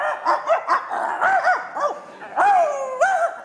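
A man imitates a fight between several dogs, making rapid barks, yips and whimpering howls in a loud, close voice.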